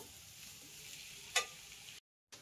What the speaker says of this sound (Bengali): এদিকে তো আলু আর কড়াইশুঁটি কষানো হচ্ছে, ভাজা হচ্ছে